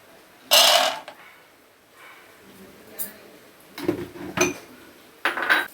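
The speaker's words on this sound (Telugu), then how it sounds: "నెయ్యి వేడయ్యాక ఫస్ట్ పల్లీలు వేసుకోవాలి" Peanuts tip into hot ghee in a metal pan: a few short, bright rattling bursts with clinks of utensil against the pan, separated by quiet pauses.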